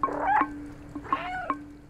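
The cat in the video game Stray gives a few short, clear meows, close and distinct, over a steady low hum.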